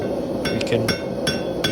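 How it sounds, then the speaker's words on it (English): Sharp metallic clinks as a 6mm or 8mm steel bar is hammered against an anvil at a blacksmith's forge, five or six ringing blows at uneven intervals over a low background hum, with a brief spoken phrase. "with hammering it against the anvil,"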